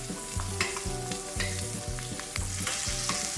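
Steak sizzles hard in foaming butter in a pan, with a regular rhythmic scraping and spooning as it is flipped and basted, loud and close.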